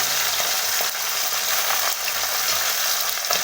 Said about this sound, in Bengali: মাছগুলো খুব সুন্দর করে ভাজা হয়ে গেছে